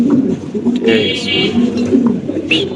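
Indonesian Mundian pigeons, large floor-touching birds, give low throaty coos amid a busy loft, with brighter chirps and faint background voices mixed in.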